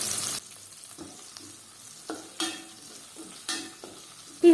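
Crushed small shallots and curry leaves fry in hot oil, with intermittent sizzling bursts and stirring scrapes at close range, no talk.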